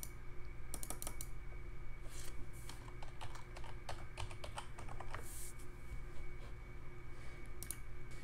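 Computer keyboard typing while renaming a part in Roblox Studio: a quiet, steady patter of clicky keystrokes in bursts over a low background hum, with no talking.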